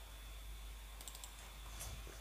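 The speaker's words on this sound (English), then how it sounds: "let's type" Keys tap on a computer keyboard in a quiet room, a short run of light, quick clicks over a low steady hum.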